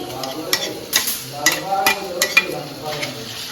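Ground onion, garlic, ginger and green chili paste sizzles in a pan while a spoon stirs it in repeated scraping strokes, close and fairly loud.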